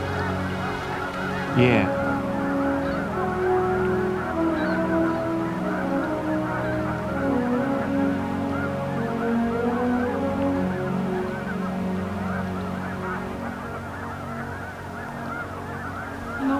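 A flock of Canada geese honking at Beaverhill Lake, a dense chorus of overlapping calls continuing throughout with steady loudness, and a brief word spoken partway through.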